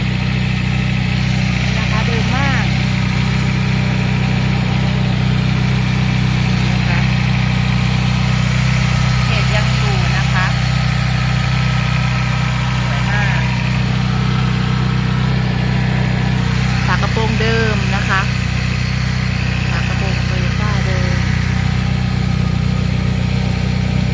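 A used Toyota automatic car with a 1800cc engine idles in a smooth, steady low hum that stays even throughout while someone talks over it.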